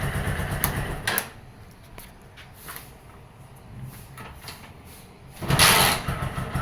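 A Keeway CR152 motorcycle engine, unused for two weeks and hard to start, sputters and catches in short uneven bursts after a kick, then revs up loudly near the end, with quiet gaps between attempts.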